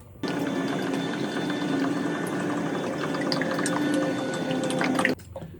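Motor oil glugging steadily from a jug into the engine of a Subaru Forester during an oil change, a continuous close pour lasting about five seconds and then stopping.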